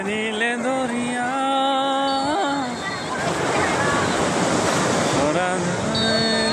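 Sea waves wash in at Laboni Beach, Cox's Bazar, as a rushing surf swell in the middle stretch, partly masked by a person singing over it before and after.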